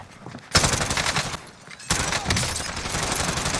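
Rapid automatic bursts from a C58 rifle in the video game Warzone, two loud sustained volleys separated by a brief pause, close and punchy with no talk.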